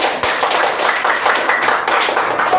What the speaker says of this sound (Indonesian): Betul, beri tepuk tangan untuk mereka.